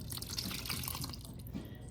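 Wet cornbread casserole batter being poured into a bowl of dry mixture in a home kitchen, a soft, close, continuous liquid pouring and splattering lasting a couple of seconds, faint and without talk.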